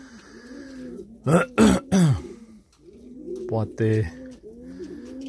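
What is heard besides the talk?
Staropolski Polish pigeons cooing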